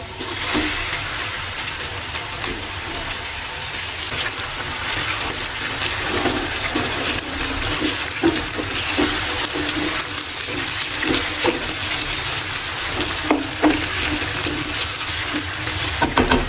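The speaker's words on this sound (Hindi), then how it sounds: "अब इसमें हम चिकन डाल देंगे।" About three-quarters of a kilo of chicken is frying in a hot pan of lightly browned onions for a chicken karahi; a dense, loud, constant sizzle fills the whole stretch, with faint scraping from stirring and no talking.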